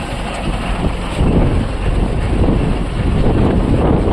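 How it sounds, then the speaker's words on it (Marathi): Strong wind roars steadily on a fishing boat at sea, a loud, dense rush buffeting the microphone throughout with no voices. "आणि वारा आहे ना भरपूर झाला आहे"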